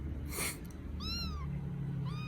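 Rescued baby kittens meowing, two thin rising-and-falling mews about a second apart, fairly faint over a steady low background hum with no talking.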